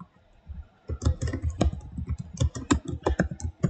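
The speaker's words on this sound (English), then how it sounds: "Sorry for the loud typing." Loud computer keyboard typing: rapid, irregular clacking of keys close to the microphone, starting after a brief quiet moment and continuing in quick bursts with no talking.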